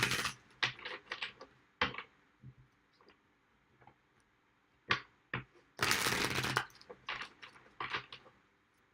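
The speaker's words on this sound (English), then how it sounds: "Two more shuffles for Sagittarius." Tarot cards are shuffled by hand in short, quiet bursts of riffling and tapping, with one longer, louder flurry partway through. No one speaks.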